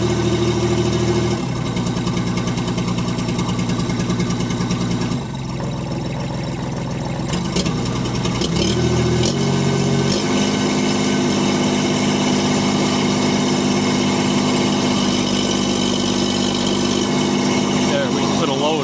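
An STL1000 engine misfiring and running roughly as it goes down a grade, a loud rumbling drone that shifts in pitch and load with uneven, lumpy beats throughout.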